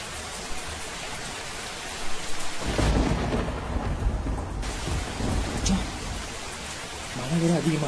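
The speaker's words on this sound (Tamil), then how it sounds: "மழை வேற அதிகமா இருக்கு" Heavy rain pours in a steady hiss, broken by deep rolling thunder that swells loudly in the middle and again near the end.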